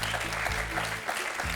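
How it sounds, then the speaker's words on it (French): Studio audience on the French quiz show Questions pour un champion applauds contestant Benjamin, a short burst of steady, dense clapping over faint background music. "On peut applaudir Benjamin, s'il vous plaît"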